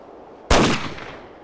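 A single sharp gunshot cracks in a video game set on an oil rig, loud and close, with a short fading tail afterward.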